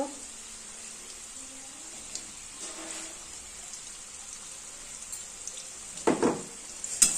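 Food sizzles and fries in hot oil in a pan with turmeric powder, a steady crackling hiss with a few louder stirring scrapes near the end.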